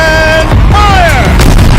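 Turret cannon firing in Horizon Zero Dawn: a single booming blast with a descending whistling tone and rumbling tail, loud and dense, with faint game sounds behind.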